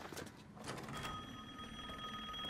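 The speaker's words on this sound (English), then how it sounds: "it's my phone." A phone rings during a Resident Evil Village play session, a steady electronic ring with sustained tones holding from about a second in, over game background noise.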